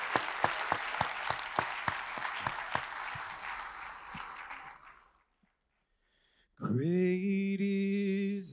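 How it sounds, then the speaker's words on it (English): Congregation applause during a church service: sharp, distinct claps build into steady clapping, fade out into a brief silence, then a sustained musical tone begins. "Give them a good round of applause as they return back to their seats."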